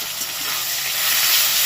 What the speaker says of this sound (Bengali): এবার দিয়েছি আদা রসুন পেঁয়াজ কাঁচা লঙ্কার যে বাটাটা